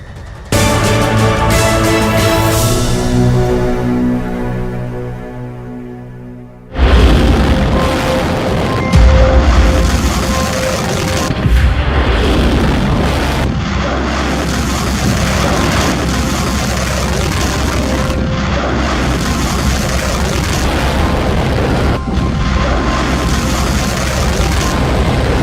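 An Iranian missile launch begins with a steady, tonal whine, then bursts into a loud, sustained roar that rumbles on, broad and forceful, for the rest of the clip.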